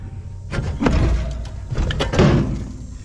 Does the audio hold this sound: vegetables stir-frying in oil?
no